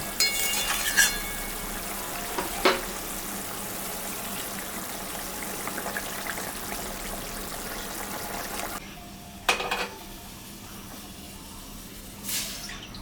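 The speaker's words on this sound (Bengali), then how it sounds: "ঝোলটা ফুটে গেছে, এখন আমি মাছটা দেব" Pieces of rohu fish go into boiling curry gravy in a pot, which bubbles and hisses steadily, broken by a few soft splashes and clunks.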